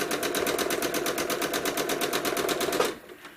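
A sewing machine running steadily during free motion quilting on an American flag panel, its rapid needle stitching in an even rhythm throughout before stopping abruptly near the end, close and alone.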